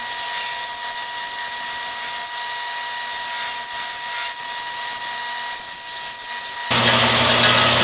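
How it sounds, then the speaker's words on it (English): A power sander whines loudly and steadily while easing the edges of a concrete form, holding a constant high tone before its pitch drops abruptly near the end. "I'm going to ease the edges on the sander"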